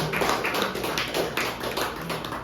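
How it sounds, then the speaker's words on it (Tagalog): A church congregation claps together during a sermon, a steady patter of many hands that carries on without a break at a moderate distance, with no voices over it. "gusto kong pumalakpak ang mga gising"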